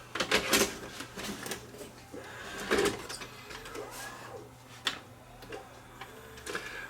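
A VCR with worn belts whirring and clicking as it struggles to play a tape, with irregular mechanical ticks and clunks over a low steady hum, up close with no voice.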